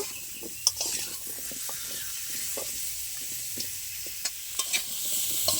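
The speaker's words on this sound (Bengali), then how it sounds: "মশলার সাথে আমি সবজিগুলো একটু ভালো করে ভেজে নেব।" Cubed potato and pumpkin fry with spices in a pan, giving a steady soft sizzle with occasional sharp clicks and scrapes from stirring.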